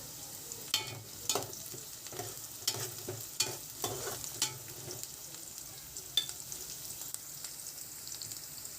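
Chicken frying with curry leaves in hot oil for a spicy chicken fry, a steady close sizzle broken by repeated stirring scrapes and crackling bursts throughout, with no voices.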